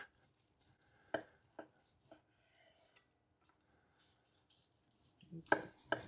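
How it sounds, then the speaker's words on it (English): A knife slices through grilled tri tip beef on a board, giving a few sparse, quiet cutting thuds spaced apart in a mostly silent background. "While we're slicing this up"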